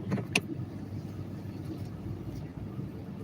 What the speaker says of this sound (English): So I'm driving.